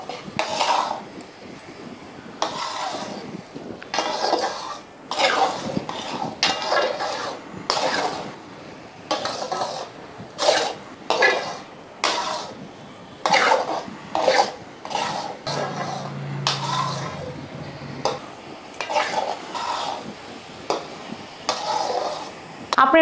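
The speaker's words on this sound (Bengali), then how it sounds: "অনবরত নাড়াতে হবে।" Coconut and sugar mixture for white narkel naru is stirred in a wok over low heat, with repeated close scraping strokes in a steady rhythm throughout.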